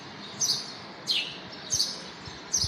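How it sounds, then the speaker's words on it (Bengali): Four clear, high bird chirps ring out at dawn, evenly spaced across a quiet background with no talking. "এই যে পাখির আওয়াজ"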